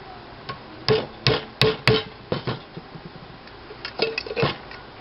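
A nail hammered through a tin can to punch a hole for a billy can, with a series of sharp, close metallic taps in irregular bursts, some louder strikes among lighter ones.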